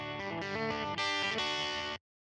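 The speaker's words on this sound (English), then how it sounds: "this creates a range of subtle variations on the basic distortion character of this" A distorted synth or instrument phrase processed through the Logic Pro Distortion plugin, harsh buzzy harmonic notes changing pitch in steps before stopping abruptly, with no voice.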